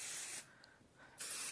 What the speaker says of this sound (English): So you just spray the wadding